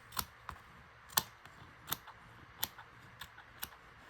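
Scissors snip edging off a crafting item, a series of about a dozen sharp, close clicks spaced irregularly in a quiet room.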